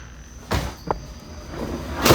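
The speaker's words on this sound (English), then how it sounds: "I knocked over the vacuum." A vacuum cleaner gets knocked over, giving a few sharp clattering thuds spaced across two seconds, the last the loudest, against a quiet room with no talking.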